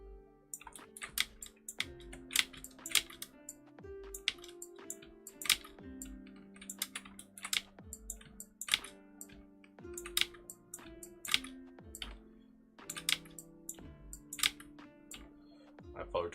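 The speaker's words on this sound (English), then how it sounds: "I apologise for all the clicking." Computer keyboard typing and mouse clicking while working on 3D polygon mountains and random book covers, steady clusters of close, crisp keystrokes running throughout with soft talk faintly underneath.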